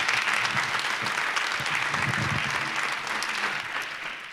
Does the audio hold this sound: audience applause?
yes